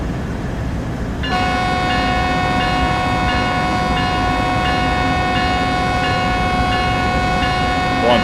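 Freight train rolling in the Train Sim World 6 simulator, a steady loud rumble with sustained tonal hum and whine that starts abruptly after about a second and holds constant throughout, no talk over it.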